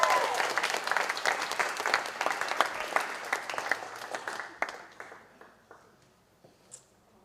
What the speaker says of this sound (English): Can we get one more round of applause for Leilani before we take our break?